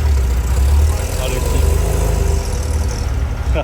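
Classic MGB GT driving on the road for the first time in 15 years after restoration, its engine giving a steady low rumble and drone from inside the car, with voices talking over it.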